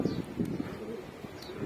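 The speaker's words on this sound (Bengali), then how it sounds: "আর এগুলো হচ্ছে আমার রেস্টের কবুতর" Pigeons coo softly from a home resting loft, low murmuring calls repeating through the clip with a few faint chirps, no talking.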